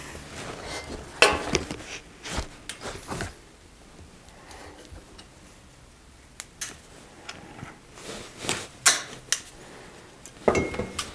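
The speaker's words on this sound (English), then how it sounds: "grab it with the pliers and then take a five millimeter wrench and anchor her down" Bicycle front derailleur being adjusted with pliers and a 5 mm wrench: faint, close metallic clicks, scrapes and small knocks scattered irregularly across a quiet workshop background.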